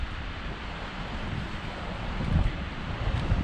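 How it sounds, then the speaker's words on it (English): Ocean waves roll onto a beach at Figueira in a steady breeze, a broad continuous wash that swells louder toward the end, with wind rumbling across the microphone. "Great to see the waves rolling in."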